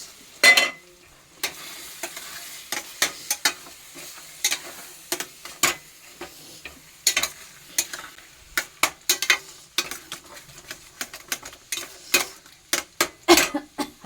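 Tempering of chopped green chili and ginger stirred into Punjabi-style mustard greens, heard as a spatula repeatedly clattering and scraping against the pan in quick irregular strokes over a faint sizzle, close by.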